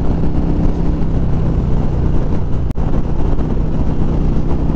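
A 2018 Harley-Davidson Street Glide motorcycle cruising along a road, with a steady, loud engine drone and rushing wind filling the whole stretch, broken only by one brief sharp dropout midway.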